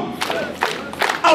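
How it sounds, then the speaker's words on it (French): Audience applauding and cheering at a church celebration gathering, short bursts of claps and shouts that swell near the end, loud and close. "Applaudissons."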